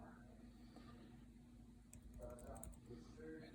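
A Wi-Fi password is typed on a computer keyboard, a faint run of light key clicks near the end beneath a low steady hum and quiet talk.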